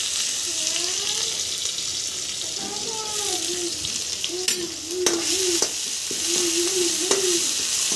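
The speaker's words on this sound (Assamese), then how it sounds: "এতিয়া এয়া মোৰ তেলটো পকিয়েই গ'ল। ইয়াতে মই পিঁয়াজ দি দিম।" Onions hit hot oil in a wok in an Assamese home kitchen, giving a steady, close sizzle with occasional sharper crackles and faint tonal sounds in the background.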